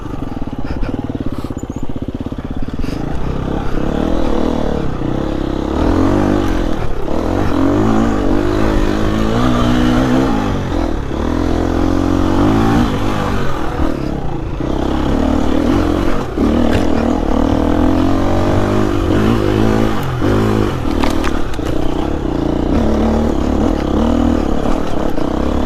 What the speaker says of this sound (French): ce moteur, il est très efficace, surtout sur un petit filet comme ça